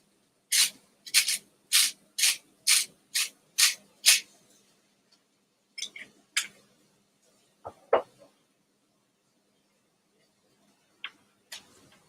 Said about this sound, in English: I'm just going to grind until my heart's content.